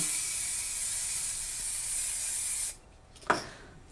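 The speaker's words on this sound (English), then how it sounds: "you can use a spray like this, which is just a frosting spray, and you can spray it on" A steady aerosol frosting spray hisses loudly onto window glass for nearly three seconds, then cuts off, followed by one short sharp burst of spray.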